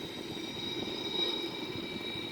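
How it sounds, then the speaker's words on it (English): Sukhoi Su-30M2 fighter with its right jet engine already running as the left engine is started, a steady cockpit roar with a thin high whine running through it and no talk. "So we now start the left engine."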